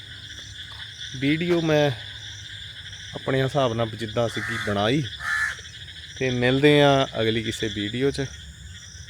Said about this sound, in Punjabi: ਡੱਡੂ ਬੋਲ ਰਹੇ ਹੈ ਪਿੱਛੇ ਆਵਾਜ਼ ਤੁਹਾਨੂੰ ਸੁਣਦੀ ਹੋਣੀ ਹੈ